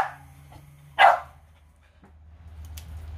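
A hunting dog trailing an armadillo lets out one sharp, loud bark, followed by a quiet stretch with faint rustling and background hum.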